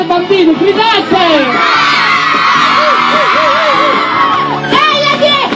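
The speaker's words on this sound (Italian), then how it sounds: "Voglio sentire gridare, bambini, gridate!" A group of children at an evening dance show in Ardara shout and yell together loudly and continuously, a dense chorus of high voices with whoops over music.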